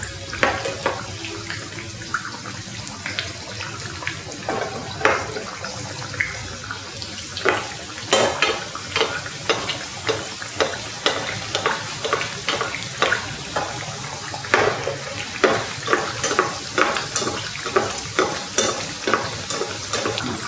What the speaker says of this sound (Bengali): এক পাশ ভাজা হয়ে গেছে, আমি আরেক পাশ উল্টে দিব।